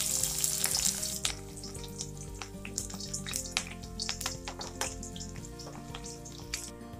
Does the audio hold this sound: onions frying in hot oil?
yes